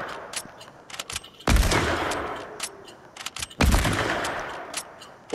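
Two sharp gunshots from Fortnite, each booming and then trailing off in a long echoing tail, spaced about two seconds apart. Fainter clicks and small game sounds fill the quieter stretches between them.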